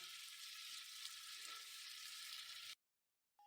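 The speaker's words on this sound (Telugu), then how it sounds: "ఇప్పుడు మనం అల్లం వెల్లుల్లి పేస్ట్ పచ్చివాసన పోయేంతసేపు వేయించుకుందాం" Ginger garlic paste frying in a pan for a Godavari-style fish curry, a steady close sizzle that cuts off abruptly into silence near the end.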